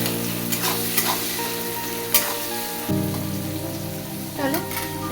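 Chopped onion with a pinch of salt fries in a pan for duck egg malai curry, a close sizzle broken by a few sharp stirring scrapes, with steady tonal background sound underneath.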